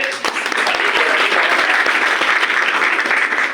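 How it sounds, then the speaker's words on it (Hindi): Loud, sustained applause from an audience at a New Year event in Lakhimpur, dense and steady for the whole stretch and heard on its own. "सबसे पहले उस महान व्यक्तित्व के लिए जोरदार तालियां बजाइए"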